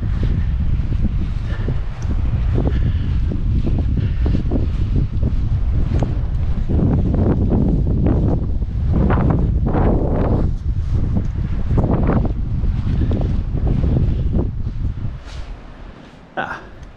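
Strong wind buffets the microphone on Chatham Island, a loud, continuous roar with gusty surges for most of the stretch. It eases slightly near the end.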